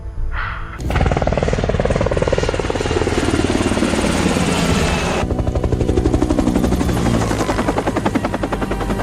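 A military extraction helicopter thunders close by, its rotor beating in a fast, steady chop that begins abruptly and stays loud, with the pulse shifting midway as the aircraft moves.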